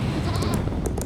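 Goats bleat in short wavering cries, several overlapping calls close by and fairly loud over a dense, busy background bed.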